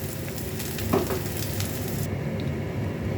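Onions sizzle steadily in hot oil alongside a paste of morola fish, with a soft stirring scrape around the middle over the continuous frying hiss.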